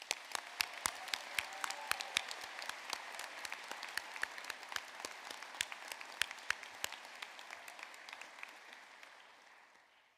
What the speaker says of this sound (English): I wonder if you'd join me in a round of applause for them.